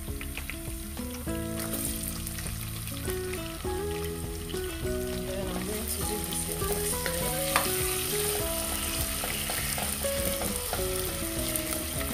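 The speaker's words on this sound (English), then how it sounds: "So I added a little bit of oil into this. And the next thing is to add my garlic." Garlic fries in a little oil in a pan while cooking for spaghetti. A dense, steady sizzle runs the whole length under clear background music, with no speech.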